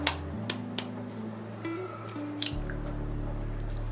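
Egg added to spiced chicken pieces for a spicy chicken majestic, giving a few wet squishing plops and drips near the start and middle over a steady low hum, with no talking.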